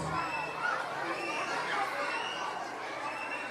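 An audience at a school event cheers for young readers, a steady wash of crowd noise and overlapping children's voices that holds at an even level throughout.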